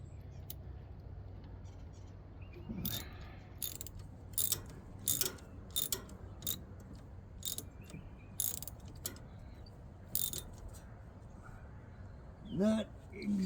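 A worn hand ratchet clicks while sickle knives are swapped out, giving quiet, irregular bursts of sharp metallic ticks separated by pauses, with faint background noise and a low murmur of voice.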